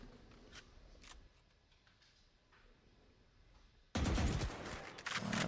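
Rapid gunfire crackles in Valorant, starting faint and distant with scattered shots, then erupting into a loud, close burst of back-and-forth fire near the end.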